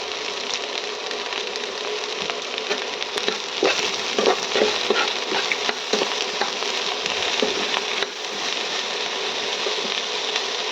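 Okra frying with turmeric and salt in a pan, a continuous close sizzle with intermittent scraping and clattering stirs, steady and fairly loud, with no talking.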